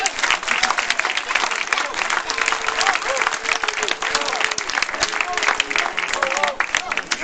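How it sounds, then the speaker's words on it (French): Loud, sustained audience applause fills the space at a French association's anniversary celebration, dense clapping with some crowd noise and faint voices mixed in throughout. "Vous pouvez les applaudir."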